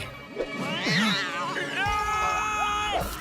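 A cartoon cat meows in a high, wavering cry, followed by a longer drawn-out mew with strong tonal overtones, close and fairly loud.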